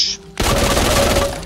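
A Vector submachine gun in Back 4 Blood fires a fast, loud, continuous burst that starts abruptly and holds steady for over a second, close and dominant.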